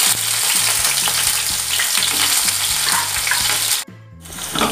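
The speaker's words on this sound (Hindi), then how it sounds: "सबको मिक्स करके हरी मिर्च को थोड़ा सा ऑयल में भून ले" Green chilies, crushed ginger and cumin fry in hot oil, a loud dense sizzle that runs almost unbroken, cutting out briefly near the end before resuming.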